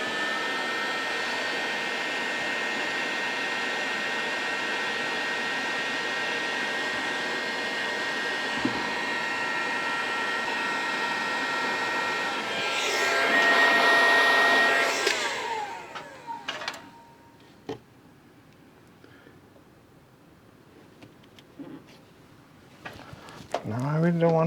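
Heat gun blowing hot air on a Citroën BX body panel in a garage, a loud steady whooshing drone that stops partway through, followed by faint handling noises.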